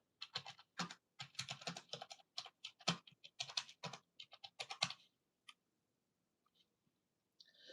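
Quick bursts of keyboard typing in clustered keystrokes, close and crisp, stopping partway with only a few isolated clicks after.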